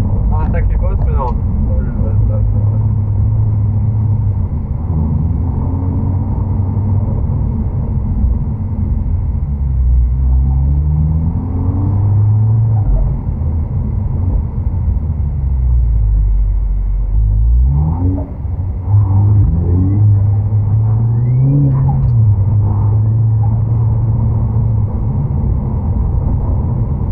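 A car with no shock absorbers drives over bumps, its engine a steady loud low drone that rises and falls in pitch as it speeds up and slows, while someone talks throughout.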